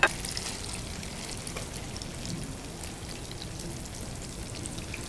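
Polenta frying in a pan, giving a steady close sizzle and crackle that runs unbroken for several seconds with no talking.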